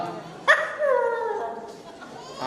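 A puppy gives a sharp yelp, then whimpers and whines in a drawn-out, falling cry, with a soft voice heard faintly in the quiet room around it.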